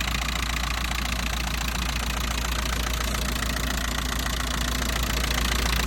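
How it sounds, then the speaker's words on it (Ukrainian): A Volkswagen TDI diesel engine idles steadily with a constant low rumble and even mechanical knocking, close up and uninterrupted, no voices. "Двигунчик працює просто як годинник."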